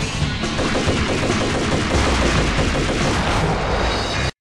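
Dense, continuous gunfire from the Max Payne game on PC, rapid overlapping shots and booms filling the mix loudly for about four seconds before cutting to brief silence, with no talking.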